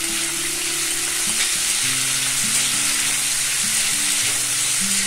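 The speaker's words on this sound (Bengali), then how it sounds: "মিডিয়াম আঁচে ঢাকা দিয়ে 5 থেকে 6 মিনিট আলুগুলোকে ভেজে নেব" Cut potatoes fry on medium heat in hot mustard oil tempered with panch phoron, giving a loud, steady, close sizzle throughout, with a soft melodic tune running faintly underneath.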